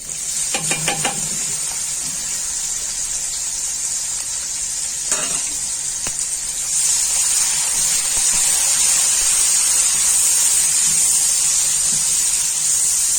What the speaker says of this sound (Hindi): फ्राई कर लूंगी प्याजों को